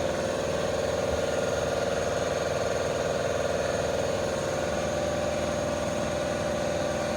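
A car polisher fitted with a pad runs on vehicle paint, giving a steady unbroken mechanical whir with a strong hum, close and constant throughout with no talk.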